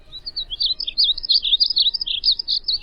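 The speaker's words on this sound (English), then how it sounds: "It's the flying rainbow, the living box of crayons, the painted bunting, Passerina cirrus." A painted bunting (Passerina ciris) sings a continuous run of sweet, high warbled phrases, loud and close, with only faint low background hum beneath.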